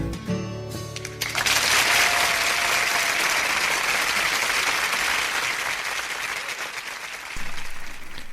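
An audience breaks into sustained applause after a brief tonal opening, a thick, steady clatter of many hands that holds for several seconds and swells again near the end.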